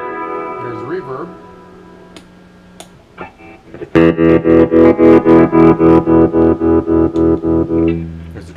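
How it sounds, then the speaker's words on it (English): Fender Deluxe Reverb reissue guitar amp plays a quiet picked phrase, then a loud run of strummed chords with a washy spring-reverb tail ringing between hits. "There's reverb."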